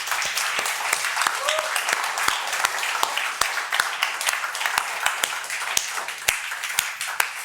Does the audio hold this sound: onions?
no